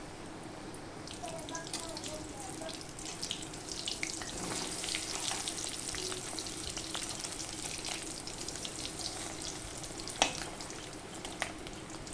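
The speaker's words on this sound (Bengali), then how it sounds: "মাছের ডিমগুলো ভাজা হয়ে গিয়েছে।" Small balls of fish roe fry in white oil in a wok, giving a continuous moderate crackling sizzle with scattered sharper pops and clicks.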